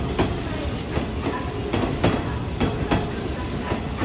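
Hanshin Railway train running past at Kintetsu Yamato-Saidaiji station, a steady rolling rumble with repeated rhythmic wheel clacks over rail joints, fairly close, with a faint voice underneath.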